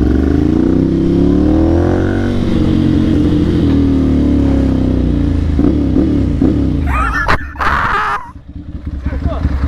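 A Honda Twister motorcycle engine revs loudly up close, its pitch rising and falling, followed by clattering and a lower idle as voices talk over it.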